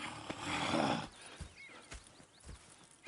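Horses in a video game whinny in a loud, close burst, then hooves clip-clop in a few sparse, scattered steps against quiet ambience.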